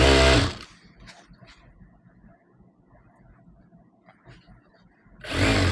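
A sewing machine stitching over elastic on old saree fabric runs in a soft, steady rapid whirr at moderate distance, framed by louder bursts of sound at the start and end.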